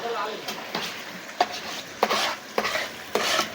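Chicken lollipop frying in a pan, a soft continuous sizzle punctuated by several sharp stirring scrapes and clatters at irregular intervals, close up.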